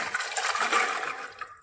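Soaking water from chickpeas for Punjabi chole is poured into a pressure cooker, a steady close splashing gush lasting under two seconds that tapers off at the end.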